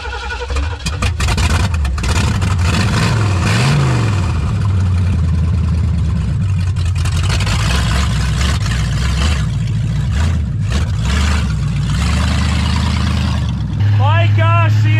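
A loud, rough 1978 Lincoln engine rumbles and revs while driving, close and constant, with a voice speaking over it.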